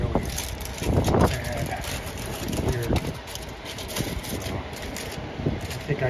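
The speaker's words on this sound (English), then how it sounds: "Listen to that wind." Cold wind blows outside a garage in a steady, loud rush that buffets the microphone, with a faint voice talking over it.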